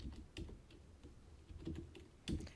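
Keys clatter on a computer keyboard while data is entered into an Excel worksheet, a quiet, irregular run of soft taps and a few firmer presses close by, with no voices.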